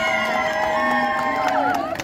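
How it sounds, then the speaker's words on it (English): Crowd at a street show in Covent Garden, London, cheering and whooping together on cue, loud and close, with shouts and a rising whistle-like yell near the end. "You take a bow and everyone will cheer for you."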